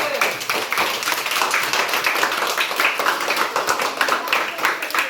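A crowd of people clapping their hands at a gathering where gifts are handed out to prisoners; dense, steady clapping fills the whole stretch at moderate loudness with voices mixed in.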